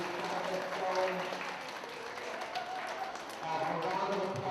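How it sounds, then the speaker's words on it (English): A school audience at an invention convention gives a round of applause for the parents, a sustained wash of clapping from a crowd, with voices mixed in throughout. "I'd also like us to give a round of applause to all the parents for all their support in getting this project going"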